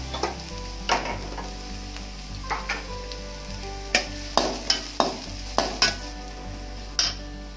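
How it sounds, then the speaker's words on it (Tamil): Onions sautéing in a pan for mushroom Manchurian, with a steady sizzle under repeated scraping strokes of a spoon stirring them, close and fairly loud, no talking. "நம்ம இப்போ வெங்காயத்தை வந்து தாளிச்சிட்ருக்குறோம்"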